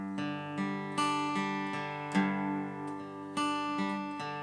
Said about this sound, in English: you're gonna pluck the bass note and then walk it down and then back up the strings